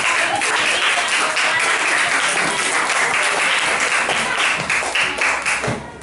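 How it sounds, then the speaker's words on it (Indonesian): Students in a classroom applaud a group that has just presented, a dense, sustained burst of many hands clapping close by that keeps going for several seconds with no talk over it. "Tepuk tangan untuk kelompok"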